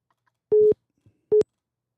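Short electronic telephone tones from an incoming call that gets cut off, two clipped beeps separated by a pause, loud and close against silence.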